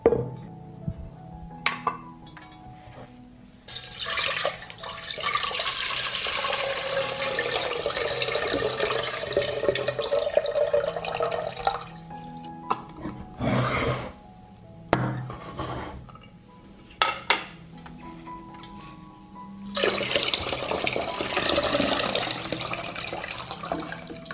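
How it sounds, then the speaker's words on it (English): Water is poured from a glass jar into a saucepan in the kitchen, with a few long, loud gushing streams broken by short pauses and the faint clink of glass. "After 15 minutes of standing, I pour the water from the jar into a saucepan."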